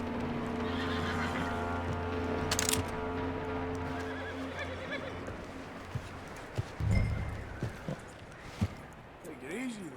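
A horse in Red Dead Redemption 2 whinnies and snorts with hooves clopping, set against a steady low ambient hum with some background voices.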